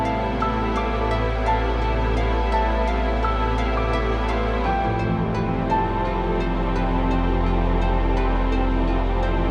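Original electronic track, the main theme of a video game, playing steadily with sustained tones, a deep low drone and regular high percussive ticks, music only throughout.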